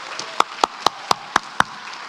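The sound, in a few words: clapping into the microphone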